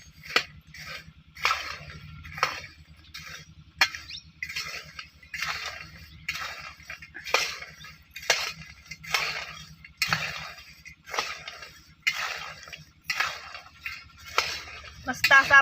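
A spatula stirs homemade fasting chivda with hot fried chillies and peanuts in a pan outdoors, giving a steady rhythm of clinks and scrapes that repeat about once a second, close and moderately loud.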